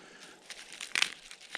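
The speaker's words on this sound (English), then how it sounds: "crumple it up a little bit" Tinder crumpled by hand before sparks are dropped in to start a fire, giving a close, dry crinkling that builds to a sharper crackle near the end, with no talk.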